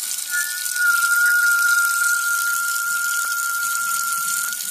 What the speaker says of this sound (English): It's a tea infuser, and if you run it under hot water, it does this weird thing.